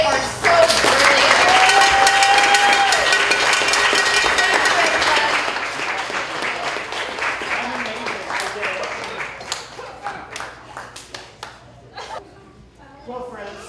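Applause from the audience at a children's drama performance, loud and sustained for several seconds, then thinning into scattered claps as it fades.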